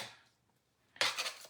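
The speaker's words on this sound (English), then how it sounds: "So I just take my plates and I just rub them together like that." Hard metal stamping plates scrape and rub together in quick gritty bursts, preceded by a fainter scrape; close, sharp and hissy.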